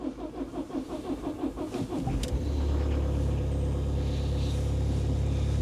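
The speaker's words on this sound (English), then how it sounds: "it struggled to start then" Old car engine cranking with a rapid rhythmic starter churn for about two seconds before it catches and settles into a loud, steady, rough idle.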